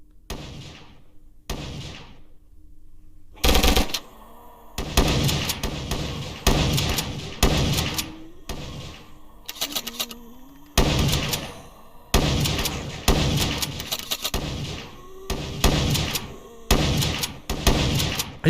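Gunfire from an online shooter game: sharp, loud bursts of shots in rapid repeated clusters across the stretch, with brief pauses between volleys and a player's voice occasionally under the noise.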